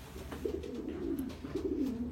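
A racing pigeon cock coos in a loft, giving soft, low, throaty rolling calls that swell and fade in two close phrases, fairly quiet and steady with no talking.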